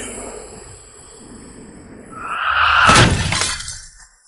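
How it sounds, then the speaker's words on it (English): Glass shatters in a sharp, loud crash that builds out of a low rumble and then scatters into brief tinkling debris, close and dominant with no talk. "Glass exploded."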